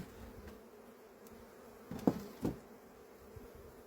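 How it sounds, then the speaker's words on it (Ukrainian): Honeybees buzzing faintly around a polystyrene hive being readied for winter, a soft low hum with a couple of brief louder buzzes as bees fly close. "Бджіл треба струсити. Хай йдуть додому."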